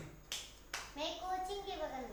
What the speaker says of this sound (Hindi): चलिए ताली बजा दीजिए आप लोग